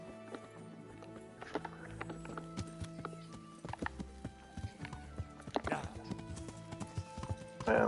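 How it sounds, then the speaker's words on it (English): Horse hooves clip-clop at a steady walking rhythm while riding in the video game Kingdom Come: Deliverance, with a brief whinny and snorts, close and fairly quiet over faint game ambience. "from here I can actually get on my horse"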